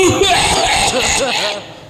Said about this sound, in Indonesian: Batuk tuh nenek.